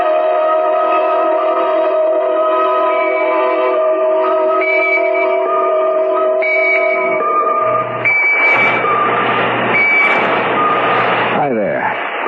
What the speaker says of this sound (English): I've got a pocket alarm watch, and it keeps trying to tell me something.